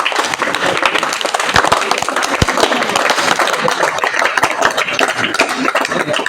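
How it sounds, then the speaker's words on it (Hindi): Crowd of children and onlookers at a classroom science demonstration applauding, dense continuous clapping that stays loud and fairly close throughout. "अब लोग ताली भी बजाओ भाई।"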